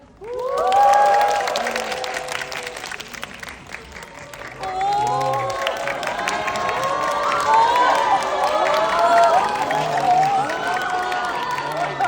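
A cinema audience at a stage greeting for the Korean film Crime City 4, with loud sustained applause and high-pitched cheers and screams that dip briefly and then surge again, filling the room throughout.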